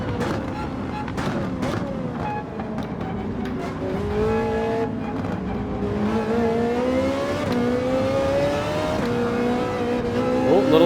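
A Ferrari or Porsche cup race car in a racing video game slides through a corner, engine revving with rising and falling pitch and a faint tire squeal, loud and continuous while someone talks over it.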